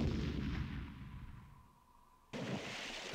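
An explosion in a Philips CD-i video game: a loud booming blast that decays over about two seconds, then a second abrupt burst of noise starts and holds to the end.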